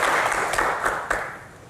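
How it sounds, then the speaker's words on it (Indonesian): Audience applause in a hall during a doctors' Q&A session, a loud burst of clapping with a few sharper accented claps that gradually fades toward the end. "Tepuk tangan dulu lah untuk kita ini."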